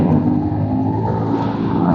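A Bristol Maxie 400 motorcycle engine revs steadily and loudly up close, a continuous throaty drone with wind rush while riding on the NLEX expressway.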